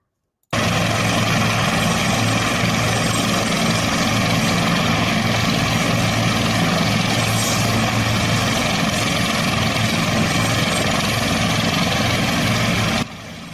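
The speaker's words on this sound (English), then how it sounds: "This is them getting loaded in a U.S. government helicopter there near the Washington Monument." A U.S. government helicopter near the Washington Monument runs with a steady, loud rotor and engine drone that stays constant from start to finish, with no talking over it.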